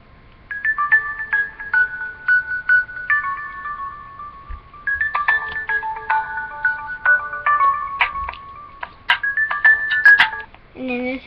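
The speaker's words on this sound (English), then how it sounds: "This ringtone is really pretty." A melodic phone ringtone plays in a steady electronic chime pattern, bright repeating tones running nearly continuously with short breaks, close and clear.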